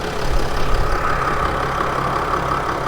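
A 2015 Mercedes-Benz Sprinter 2500 van idles with its hood open, its engine giving a steady, even hum with low rumble, close and continuous throughout.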